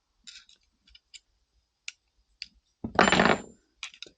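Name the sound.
pliers popping out the magazine disconnect of a Star 30M pistol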